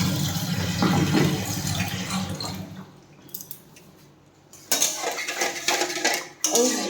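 Water poured into a pot to wash moong dal, with splashing, running water and clattering of a metal pot, close by; a quiet pause in the middle before the sloshing and clanks resume.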